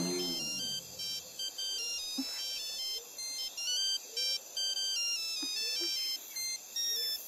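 Mobile phone ringtone in an animated children's show: a bright, looping electronic melody of repeating short tones that rings steadily for the whole stretch, loud and close, with a few brief sounds breaking in.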